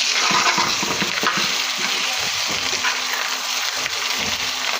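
Fish roe fries in a generous amount of oil, a loud continuous sizzle with repeated scraping stir strokes from a spatula against the pan.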